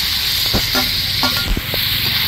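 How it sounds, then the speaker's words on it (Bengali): Fried pointed gourd and jackfruit seeds are stirred into a sizzling vegetable-stalk curry in a pan, with a soft hissing sizzle and a few distinct scraping stir strokes close by. "পটল ভাজার সাথে আছে কাঁঠালের বীজ ভাজা, দুটোই একসাথে দিয়ে নিব আমি"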